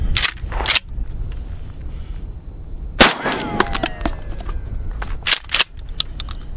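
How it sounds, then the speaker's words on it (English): A Mossberg 500 shotgun with a cut-down barrel and replaced ejector fires three loud, sharp blasts, each followed by a ringing decay, against a quiet outdoor background. "shotgun's working really good"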